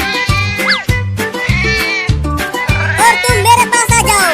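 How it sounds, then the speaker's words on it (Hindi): Cartoon kittens meow over and over in a steady, loud rhythm, each mew landing on a repeating beat of music, with no talking over them. "चलो आ जाओ बिल्ली के बच्चों"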